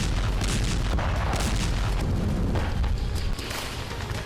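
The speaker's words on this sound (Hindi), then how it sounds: "इजरायल की बमबारी तो गाजा में जारी है" Israeli bombardment in Gaza: a dense, continuous roar of rumbling blasts and booms, loud and unbroken throughout, easing slightly toward the end.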